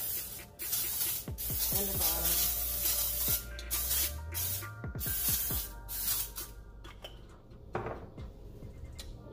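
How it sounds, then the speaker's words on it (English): Avocado oil cooking spray hisses from a can onto a waffle iron in a home kitchen, a few short bursts amid clattering utensils and faint talk. "I'm gonna use my avocado oil spray. Cooking spray for the top"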